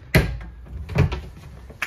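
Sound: soft-close RV cabinet doors closing

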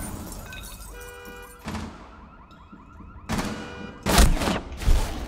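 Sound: gunshots in a video game

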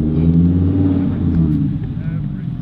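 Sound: loud car engine revving

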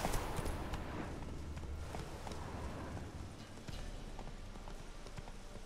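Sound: horse hooves clip-clopping in a video game

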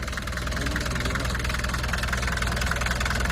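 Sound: car engine revving to check radiator

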